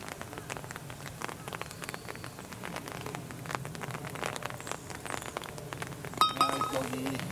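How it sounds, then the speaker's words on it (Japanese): Heavy rain beats steadily on a golf course, a dense patter of drops close by with occasional sharper clinks. The rain continues without a break throughout. "雨がすごいです。"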